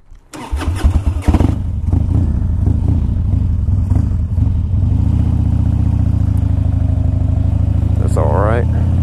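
A 2001 Harley-Davidson Dyna Wide Glide motorcycle engine cranks with a few stuttering pulses, catches, and settles into a loud, steady, deep rumbling idle close by.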